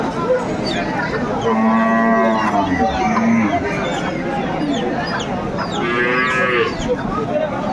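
A dairy cow lows loudly twice at the Aftabganj cattle market in Dinajpur, long drawn-out moos with chickens clucking nearby and people chatting in the background.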